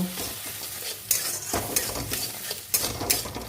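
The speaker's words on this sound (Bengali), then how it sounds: "দেখবে একটুখানি নাড়লেই দেখবে ঝুড়ি ভাজা মতন হয়ে যাবে" Ingredients for spicy Maggi noodles are stirred and fried in a pan, giving a steady close sizzle. Repeated scraping strokes of a spatula against the pan break through every second or so.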